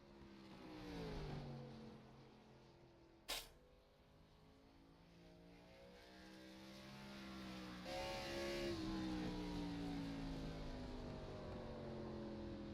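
A race car, the number 21, running laps at Myrtle Beach in a racing game, engine tone rising and falling through gear changes as it passes, with one sharp click and a louder, closer drone building toward the end.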